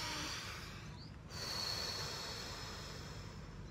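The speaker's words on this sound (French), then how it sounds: "une respiration." A single soft breath drawn during a guided group meditation, a quiet airy rush over a steady background hiss with no talking.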